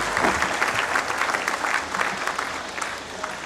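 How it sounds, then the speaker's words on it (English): Audience at a university graduation ceremony in Kenya applauding, a steady dense patter of many hands that holds throughout and eases slightly toward the end. "why don't you clap a little?"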